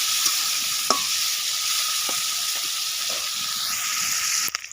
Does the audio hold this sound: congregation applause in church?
no